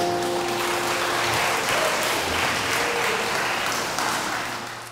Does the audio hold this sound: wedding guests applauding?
yes